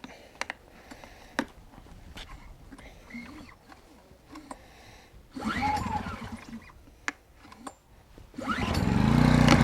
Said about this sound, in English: Let's see if we can get it to start.